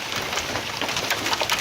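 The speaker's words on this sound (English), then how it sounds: "This hailstorm is so crazy." Hail pelting down outdoors during a storm over Denver, a dense, steady clatter of stones striking surfaces all around, loud and unbroken with no voices.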